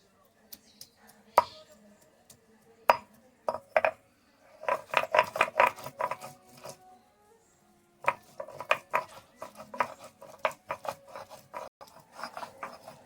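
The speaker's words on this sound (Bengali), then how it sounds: "এবার আমি টমেটো বেটে নিচ্ছি।" Tomatoes being ground into paste on a traditional stone for a home-style katla fish kalia, heard as rhythmic scraping and grinding strokes in bursts with short pauses, close and moderately loud.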